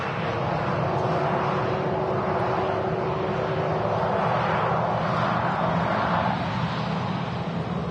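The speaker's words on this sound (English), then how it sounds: "Jet 2737 coming in from Leeds today." Jet2 Boeing 737 arriving at Manchester Airport from Leeds, a steady, loud, broadband engine roar that holds evenly throughout with a gradual shifting tone.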